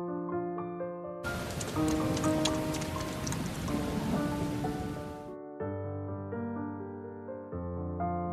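Heavy rain pours down steadily, a dense broadband hiss that swells in loudly, holds for several seconds, then cuts off, while soft sustained music tones continue underneath and alone afterwards.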